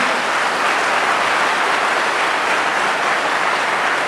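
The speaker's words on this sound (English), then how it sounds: "Give yourself a big round of applause if you say yes." A crowd at a political rally applauds in a dense, continuous roar of clapping that stays loud and even for about four seconds, with no speech over it.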